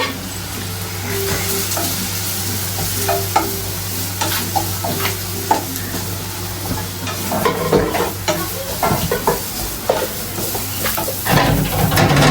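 Soybean chunks being stirred into mustard seeds frying in a pan, a steady loud sizzle with repeated scraping spoon strokes throughout and no talking.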